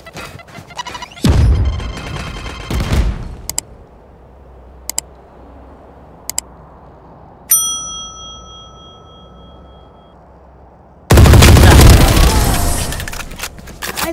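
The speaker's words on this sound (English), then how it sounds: "Grenade!" Shooter game Valorant: a loud burst of gunfire and a blast open the scene, followed by scattered clicks, a ringing tone, and then another loud, sustained explosion near the end.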